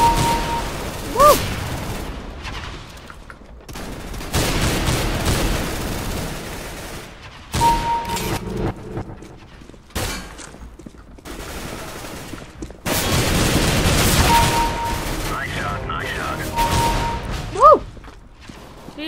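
Gunfire in the video game CS:GO comes in repeated bursts of rapid automatic shots and single cracks over about twenty seconds, loud and close, with short quiet gaps and electronic game tones between volleys.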